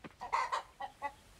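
Chickens cluck in the farming game Coral Island, four or five short clucks in an uneven rhythm, close and fairly quiet, with no talk over them.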